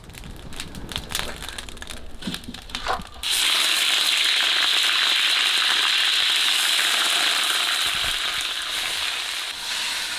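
Pork frying in a wok as its fat renders, a steady loud sizzle that bursts in after a few seconds of quieter clatter and holds dense and bright to the end.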